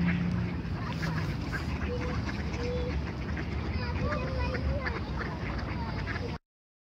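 Ducks quacking on the Yenisei river in winter, where the water stays unfrozen, repeated calls scattered over steady outdoor noise, with people talking nearby.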